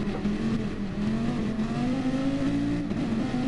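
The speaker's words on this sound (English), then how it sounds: "and he's revving her out" A race car engine in the video game GT Sport revs hard and steadily, a loud continuous drone with slowly rising pitch, heard alone.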